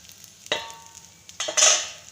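A dosa fries in ghee on a pan, giving short bursts of close sizzling and scraping over a couple of seconds.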